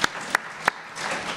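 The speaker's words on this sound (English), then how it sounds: "Another round of applause for her." At a candidates' forum, a few sharp, isolated hand claps sound at an even pace, then give way to a low, diffuse murmur of scattered applause in the room.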